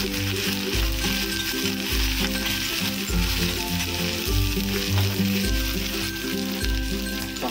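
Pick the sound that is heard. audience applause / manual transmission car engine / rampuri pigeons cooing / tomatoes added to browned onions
tomatoes added to browned onions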